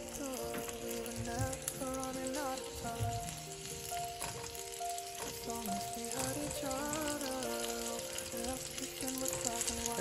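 Pork sizzles steadily in a frying pan on the stove, a continuous crackling fry with occasional stirring noises, heard close up over light background music throughout.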